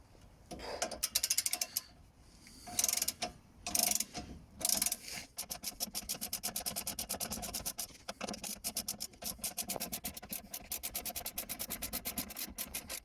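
Ratchet working stiff rear spring isolator bolts loose on a Ford Fiesta ST180 during a Powerflex isolator install, with rapid metallic clicking bursts, pauses between strokes, then a long steady run of close, loud ratchet clicks.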